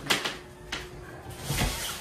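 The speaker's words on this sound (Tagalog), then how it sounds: "May nagbubukas ng pinto" Indoors, a door is opened with a few soft clicks and knocks of the latch and frame, quiet and close, against a faint room hum.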